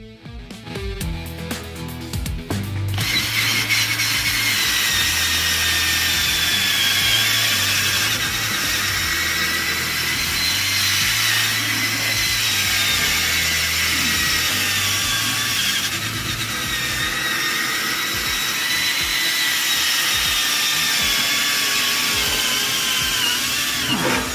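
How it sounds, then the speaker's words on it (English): A power tool grinds surface rust off the frame of a 1967 Impala. After a few seconds of clattering it settles into a loud, continuous, close-up grinding whine that holds steady to the end. "start grinding off the surface rust on the 67 frame"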